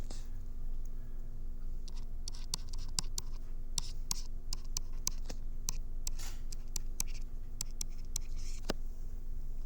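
Chemical structure being written on a board in a lecture: crisp, close tapping and scratching strokes in an uneven rhythm over faint room noise, with no talking.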